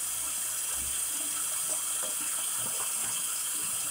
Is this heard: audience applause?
no